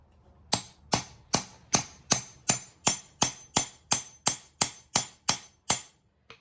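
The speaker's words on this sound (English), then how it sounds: "And you hammer." Sharp metallic hammer strikes crimping a jalousie window clip ring out about fifteen times in a steady, even rhythm, each close and crisp with a short ringing decay.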